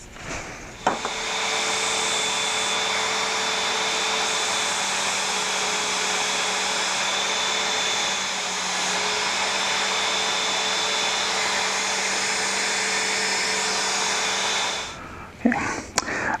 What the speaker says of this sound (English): I'm just using I have a 1-inch belt sander set up in a vise here